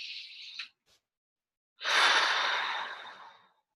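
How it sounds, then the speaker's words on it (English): A single long, audible exhale of a deep breath, close and breathy, after a short intake, alone with no talking. "So I'm going to take a deep breath."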